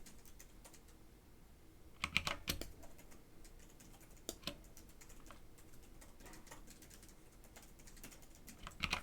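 Quiet, irregular keystrokes on a computer keyboard, with short bursts of faster typing and scattered single taps over a soft background hiss, nearby and fairly faint.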